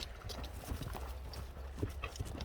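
Horse walking, hooves clip-clopping in a loose steady rhythm, fairly faint and distant against a soft outdoor background.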